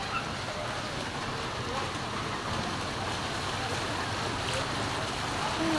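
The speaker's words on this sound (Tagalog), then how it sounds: "Grabe kalakas ng ulan." Heavy rain pours down steadily over flooded streets during a storm, a dense, continuous roar close by with a faint voice underneath.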